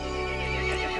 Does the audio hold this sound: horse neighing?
yes